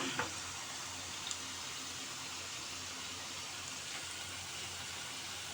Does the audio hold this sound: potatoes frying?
yes